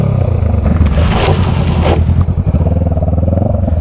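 Honda Rebel 500 motorcycle pulling a wheelie, its engine roaring loud and close with a rising throttle surge, then a throbbing, pulsing idle as it settles, with wind buffeting the microphone.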